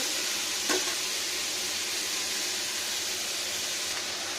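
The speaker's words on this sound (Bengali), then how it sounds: "বাঁচা কুচা তেল ছিল, ওটা দিয়ে ভেজে নিই।" Mixed vegetables frying in leftover oil in a pan, an even, continuous hiss of sizzling that holds steady throughout, with a faint knock near the start and no voices.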